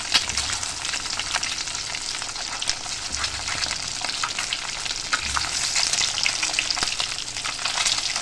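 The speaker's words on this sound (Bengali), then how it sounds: "তিনটে ডিমকে নুন হলুদ মাখিয়ে আমি হালকা ভেজে তুলে নেবো" Halved duck eggs coated in salt and turmeric fry in mustard oil in a pan, giving a steady, close sizzle with occasional stirring scrapes throughout.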